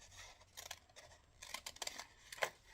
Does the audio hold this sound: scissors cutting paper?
yes